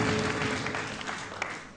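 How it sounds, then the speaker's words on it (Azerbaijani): Studio audience at a quiz show breaking into brief applause, a dense steady patter of clapping that holds for the whole short stretch at moderate level. "Alqışlar"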